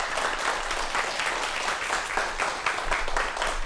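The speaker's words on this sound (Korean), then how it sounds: "박수로 환영해 주십시오" An audience applauds in a studio, welcoming two guests. The clapping is dense and steady, sustained evenly for several seconds with no talking over it.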